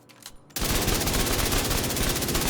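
An assault rifle in the video game The Division 2 opens up after a short quiet moment, firing a fast, steady stream of rounds that stays loud and close until the end.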